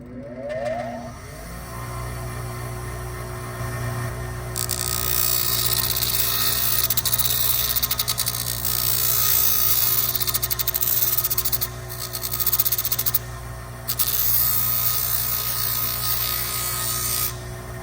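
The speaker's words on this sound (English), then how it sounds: "The best way to not break it in half is going to be to use a bench grinder." A bench grinder hums, then grinds loudly into a plastic knob in long, sustained harsh rasping passes, briefly easing off between cuts over the steady motor drone.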